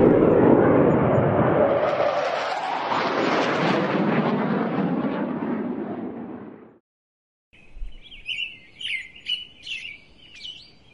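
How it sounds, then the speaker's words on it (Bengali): A long, loud rumbling roar, like thunder or a WWII warplane passing overhead, swells and then fades; after a brief silence a series of bright chirping bird calls follows. "মাঝে মাঝে বাজ পড়ার শব্দ, এবং তার মধ্যে আকাশে দু একটি যুদ্ধ বিমানের উড়ান"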